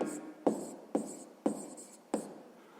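Pen strokes writing down a math calculation on paper, five short scratchy bursts in a steady rhythm, close and quiet with no talking.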